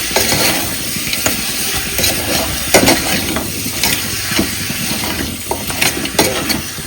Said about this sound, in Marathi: कमी गॅसवरती त्याला परतून घ्यायचं आहे